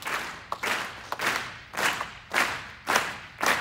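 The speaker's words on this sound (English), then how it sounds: "So I'm wondering if you could clap." Audience at an orchestra concert clapping in short rhythmic bursts on cue, about six sharp rounds of clapping separated by brief pauses, moderately close and with no talk.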